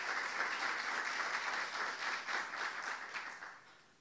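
A congregation at a Saturday worship service gives a steady round of applause, moderately distant and even, that gradually fades away over about four seconds.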